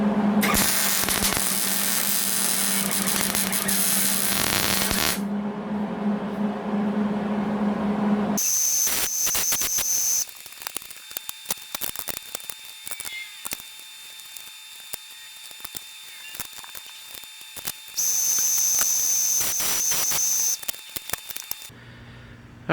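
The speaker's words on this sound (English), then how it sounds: "So let's get it welded up." Welding metal table legs and a cross brace, a loud continuous crackling hiss lasting many seconds with a hum underneath, broken by short pauses and shifts in tone.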